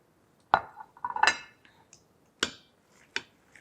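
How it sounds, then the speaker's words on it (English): A spoon clinks and scrapes against a pot while stirring beef and greens together, a few sharp metallic knocks spread apart with quiet gaps in between. "I'm going to stir it all together."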